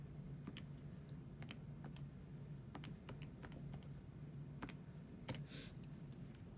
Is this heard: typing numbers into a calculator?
yes